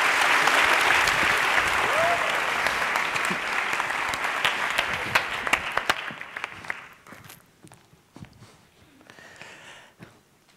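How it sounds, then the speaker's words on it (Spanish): A large audience at a TEDx talk claps loudly and steadily for several seconds, then the applause thins into scattered claps and fades out. "Un aplauso, por favor."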